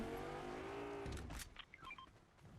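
A car engine in the Fortnite video game revs with a steady tonal drone that drops off after about a second, followed by scattered short electronic beeps and clicks, moderately close and without talk.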